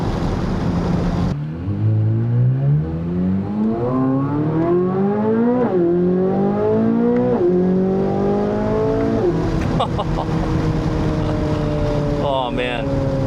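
A Chevrolet Corvette C8 Z06 with its LT6 engine pulls hard from close range, its loud roar climbing in pitch through several quick upshifts, each gear bringing a fresh rising sweep before a final lift.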